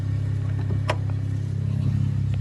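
Turbocharged car engine with a K20 setup idling under an open hood, a steady low rumble with a faint tappy ticking and one brief sharp click, close and continuous.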